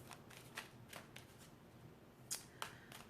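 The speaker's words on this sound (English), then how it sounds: "Oh yes, I'm still shuffling." Tarot cards are shuffled quietly up close in a series of soft, brief riffles and snaps that come at uneven intervals, faint but distinct.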